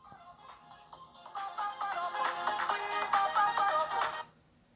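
A phone ringtone for an incoming call plays a bright repeating melody that starts softly, swells to a steady loud loop for a few seconds, then cuts off.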